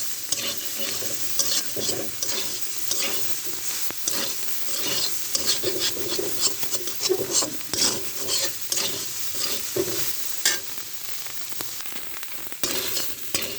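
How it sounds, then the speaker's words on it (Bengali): Soybean chunks frying and being stirred in a pan, with a steady crackling sizzle broken by repeated scraping strokes of a spatula, close and fairly loud with no voices. "সয়াবিন বড়ি ভেজে কিছুটা"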